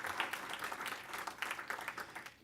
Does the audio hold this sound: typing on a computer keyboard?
no